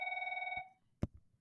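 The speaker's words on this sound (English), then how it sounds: "My phone is ringing, sorry guys." A phone rings with a short electronic tone burst that cuts off, followed by a soft knock or click, fairly quiet and alone without talk.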